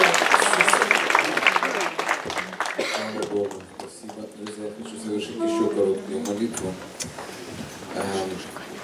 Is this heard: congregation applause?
yes